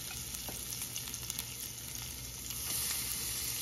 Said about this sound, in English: They're gonna be good when they got that sizzle going.